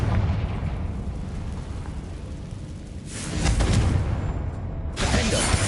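Confringo spell blasts in Hogwarts Legacy, booming fiery explosions with crackling debris, one surging burst after another and a second heavy blast near the end, loud and close over rumbling game ambience.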